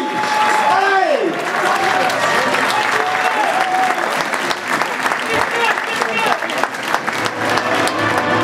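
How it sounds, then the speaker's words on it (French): Loud, sustained applause from an audience at a multi-boxing gala fills the space, with a voice calling out over the clapping near the start. "C'est maintenant qu'on les applaudit."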